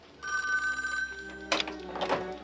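An old-style telephone bell rings loudly indoors in a TV comedy scene, a sustained ring that breaks into a clattering burst partway through, with no talk over it.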